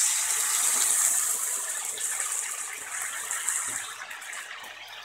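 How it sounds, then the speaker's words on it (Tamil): Cabbage cooking water pours into a pot of vegetable noodle soup with cabbage, carrot and corn, a steady close gush of liquid that tapers off toward the end, with no voices. "இப்போ அந்த கேபேஜ் வேக வச்ச தண்ணியை சேர்த்துக்கிறேன்."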